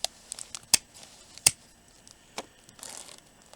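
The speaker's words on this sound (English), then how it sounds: "Okay, so now we're going to cut it up here in this corner." Scissors snip through paper at a desk during a holiday mixed-media craft project, giving a few sharp, close cuts spaced irregularly over quiet rustling.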